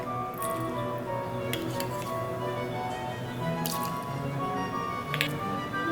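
Whole milk poured into a mixing bowl with cream cheese and melted butter for cinnamon roll icing, soft close dripping and wet squishing sounds over a low background, with a few light clinks.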